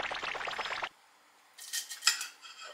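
A knife chops fresh coriander without a cutting board, giving a quick run of close, crisp taps. After a short pause come softer scraping and clinking sounds.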